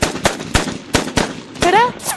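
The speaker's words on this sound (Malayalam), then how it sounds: "വീടിന്റെ ഫ്രണ്ടിൽ വന്ന് ഭയങ്കര വെടിവെപ്പ്" Rapid gunfire rings out in a comedy sketch: a string of sharp, loud shots at uneven intervals, close by, with a brief voice cutting in near the end.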